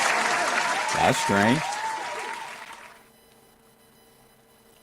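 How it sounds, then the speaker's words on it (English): A burst of applause and cheering fades out, with a voice speaking briefly over it, then near silence. "Oh, round of applause."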